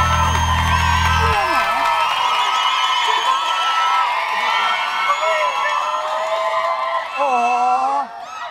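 A studio audience at a Thai TV game show screams and cheers loudly and continuously, with shrill whoops rising over a dense crowd roar that briefly dips near the end.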